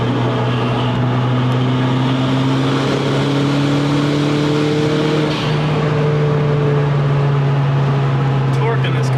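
A turbocharged car accelerates hard in fifth gear, its steady engine drone and rising whine filling the interior from close by, with people talking over it.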